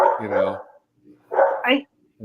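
A dog barks a few times, close and loud, in two bursts with a short gap between them, while people talk nearby.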